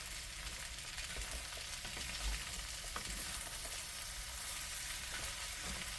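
Food frying and being stirred in a pan that is slightly sticking, a continuous close sizzle with soft scraping of the utensil. No one speaks.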